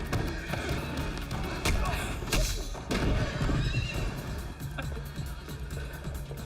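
A horse neighs amid the dense action soundtrack of John Wick: Chapter 3 – Parabellum, whinnies rising over busy mixed noise with possible hoof clatter, while a voice talks over parts of it.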